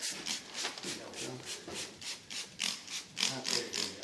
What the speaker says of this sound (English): Keep wiping this off until we get almost pure white gesso